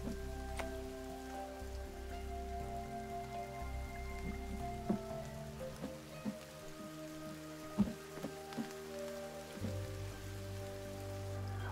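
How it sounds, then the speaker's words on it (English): Rain patters steadily on surfaces in the survival video game The Forest, a continuous soft hiss with occasional sharper drops, under a low ambient hum and scattered faint clicks. "I'm protected from rain here."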